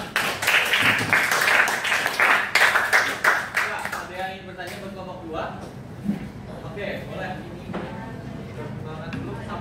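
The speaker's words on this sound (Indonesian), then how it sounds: "tepuk tangan dulu buat kelompok 2" Classroom applause for a student group finishing a presentation, a burst of close hand clapping in the first few seconds that thins out as voices chatter over it.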